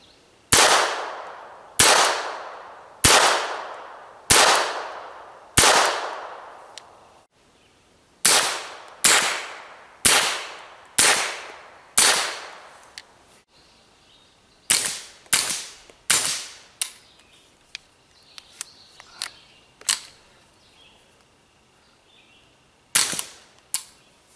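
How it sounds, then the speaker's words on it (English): Unsuppressed gunshots from 60 grain Aguila sniper subsonic ammunition, fired outdoors as sharp, loud cracks in evenly spaced groups of about five, followed by a few scattered shots and fainter clicks. "Sixty grain Aguila sniper subsonic, unsuppressed."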